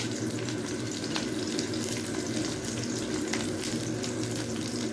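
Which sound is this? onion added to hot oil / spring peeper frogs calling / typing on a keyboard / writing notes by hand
onion added to hot oil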